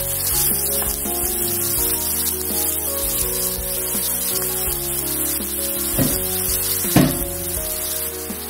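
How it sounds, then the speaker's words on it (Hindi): Onions fry in a pan toward golden brown for chicken tikka masala, giving a loud, continuous sizzle over steady background music, with an occasional stirring scrape. "प्याज को हमें हल्का सा गोल्डन ब्राउन कर लेना है"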